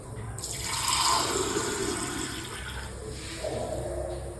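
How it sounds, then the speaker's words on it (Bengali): About a cup of water pours into an ordinary pot to start a flaxseed gel, making a continuous close splashing gush that fades and then picks up again briefly near the end. "এর সাথে এবার দিয়ে দেব জল।"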